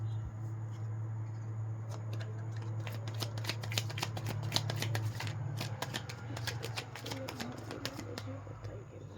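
Tarot cards are shuffled by hand, a long run of close riffling flicks and soft slaps over a low steady hum.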